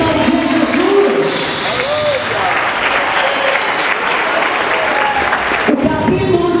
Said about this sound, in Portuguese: Pode aplaudir Jesus mais forte.